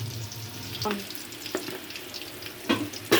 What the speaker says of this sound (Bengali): চিংড়ি মাছটা একটু ভেজে নিতে হবে